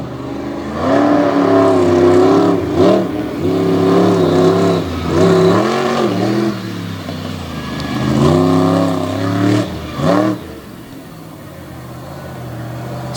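A truck engine roars and revs hard through a wheel stand on a Jennerstown track during an all-star event, its harmonic pitch rising and falling in loud sustained bursts with a brief drop near the end.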